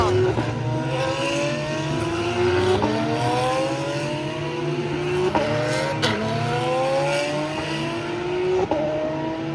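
Formula 3 race cars accelerate down the straight at the Montmeló circuit during qualifying, with repeated rising engine whines that climb, drop at each gear change and climb again. The cars sound moderately distant over steady crowd and track ambience.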